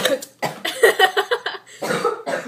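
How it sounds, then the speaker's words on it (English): A burst of several harsh coughs in close succession, near and fairly loud, with brief pauses between them. "It's not a cold, it's a cough."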